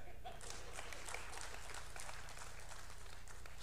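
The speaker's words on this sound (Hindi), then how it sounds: "इस बार तो आप तालियां बजाएंगे" Audience applause at a Hindi satire performance, a faint wash of clapping from a crowd with a steady low hum beneath it, continuous and fairly even throughout.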